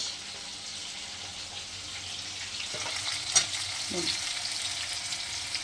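Onion dropped into frying garlic, mustard and green chili paste, a steady soft sizzle with stirring and a brief clink, moderately faint and close.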